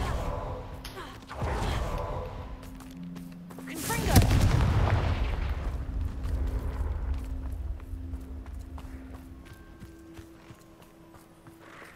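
Fiery Confringo spell blasts from Hogwarts Legacy burst with heavy booming impacts, the loudest around the middle, amid rumbling combat sounds and a few other effects.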